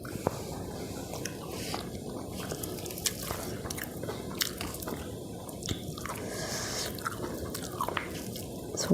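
Someone eats masala dosa with chutney, giving close, wet chewing and biting sounds that run steadily throughout without talk.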